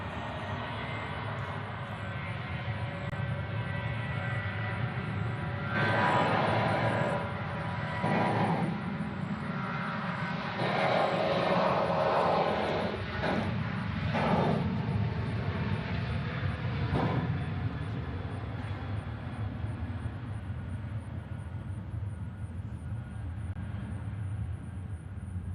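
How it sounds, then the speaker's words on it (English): A Southwest airliner taking off at Nashville International Airport, a sustained loud engine roar that swells and rumbles steadily over about twenty-five seconds, heard from a spotting position with no talk. "As we have Southwest taking off."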